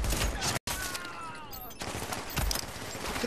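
Gunfire in the video game The Division, rapid repeated shots sounding close and busy, cut by a brief dropout, with further bursts continuing over game noise.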